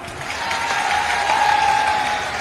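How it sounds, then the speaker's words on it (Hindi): Crowd clapping at an outdoor political rally for Chief Minister Yogi, steady dense applause filling the whole stretch at fairly close range, with no voices over it. "अरे सही है तो ताली बजाओ।"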